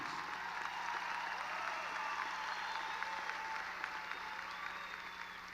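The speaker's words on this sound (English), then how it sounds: "Can we give them a big round of applause, please?" A graduation crowd at the Stony Point class of 2024 ceremony gives a big round of applause, dense and sustained from start to finish at an even level.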